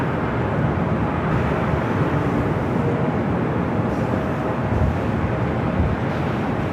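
A Big Q cargo Boeing 777 freighter from Nagoya arrives at LAX, heard as a loud, steady, broadband jet roar that holds evenly without a break.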